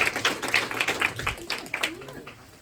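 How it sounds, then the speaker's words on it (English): Scattered hand clapping from an audience in a community meeting conference room, several quick overlapping claps that taper off over a couple of seconds, with faint murmuring underneath. "Give SOS another round of applause."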